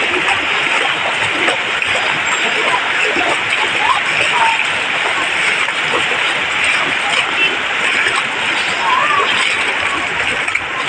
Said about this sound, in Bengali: দেখুন এই ঘরে পুরা জল আর জল হয়ে গেছে